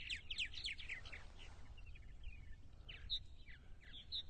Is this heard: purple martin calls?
yes